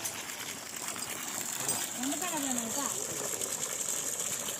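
Water gushes steadily from the outlet of a BLDC solar-powered pump, a continuous broadband rush at moderate level with someone talking over it throughout.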